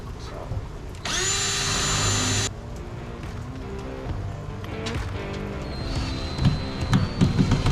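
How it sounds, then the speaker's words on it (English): A power drill whirs loudly for about a second and a half while drilling a hole to mount a hinge, then stops, followed by quieter handling noises and clatter. "I'm ready to drill my first drill and mount my first hinge"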